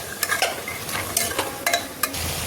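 Unboiled, washed peas and potatoes stir-fried with spices in a pan for ghugni: close, irregular scrapes and clinks of a spatula stirring, over a soft, steady sizzle.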